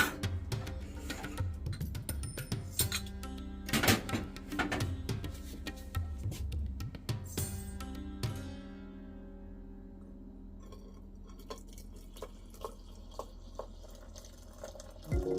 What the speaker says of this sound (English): we are gonna pour out the tea from the pot